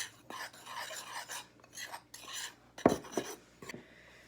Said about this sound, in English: Okay, so I've got my salt and flour. I'm gonna mix it up.